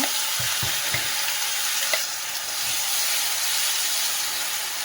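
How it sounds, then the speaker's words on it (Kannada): Onion chutney fries in a pan over a medium flame, a steady broadband sizzle with a few soft stirring knocks near the start; close and continuous, with no voices. "ಮೀಡಿಯಂ ಫ್ಲೇಮಲ್ಲಿ ಫ್ರೈ ಮಾಡ್ಕೋಬೇಕು."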